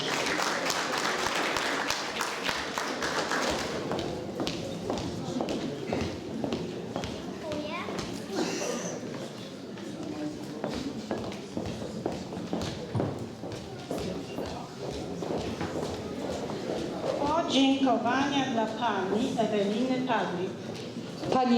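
Guests at a charity ball give a long round of scattered applause, fairly quiet and continuous, while voices talk over it and a swell of crowd noise comes near the end.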